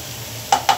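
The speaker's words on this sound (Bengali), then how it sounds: "এখন ভালো করে নেড়ে দিব।" A spoon stirring carrot and beetroot halwa in a pan after powdered milk is added, a low soft sizzle followed by three sharp scraping strokes against the pan, no talking.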